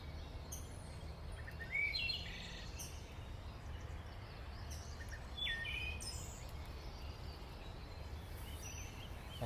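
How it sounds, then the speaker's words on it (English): Faint birdsong in a quiet spring migration woodland, wood thrush and northern parula among it, with scattered chirps and short rising buzzy phrases over a soft hiss of background ambience. "Oh, I hear a northern parula too."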